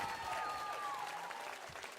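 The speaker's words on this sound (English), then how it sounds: "Crowd's been awesome today." A live crowd applauds and cheers at a Valorant Champions esports match between G2 and MIBR, a steady wash of clapping filling the arena with faint voices beneath.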